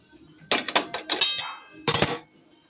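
Cooked food poured out of a wok at home, with metal utensils clinking and clattering against the pan in a quick burst of close knocks, then a longer scraping clatter near the end.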